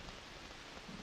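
Steady rain pours as a constant broadband hiss, even and unbroken throughout.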